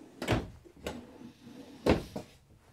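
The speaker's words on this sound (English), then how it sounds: "And down below, you have pull-out drawers as well." Pull-out drawers in the kitchen of a 2024 Winnebago Micro Minnie 2108DS travel trailer slide and bump shut, four short knocks in two pairs, close and dry, with quiet gaps between.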